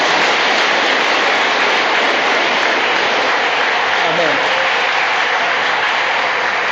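A church congregation bursts into loud, sustained applause during a sermon, a dense, even wash of clapping that fills the room from start to finish with no gaps.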